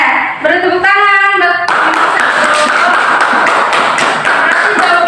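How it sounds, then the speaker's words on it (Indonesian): Students in a classroom clapping together after a correct group answer: a brief voice first, then loud, rapid, dense clapping from many hands carrying on steadily to the end. "Oke, beri tepuk tangan."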